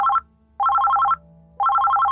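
A telephone rings in three bursts of rapid trilling electronic pulses, each separated by a short silence. The ringing is loud and clear, with no voices.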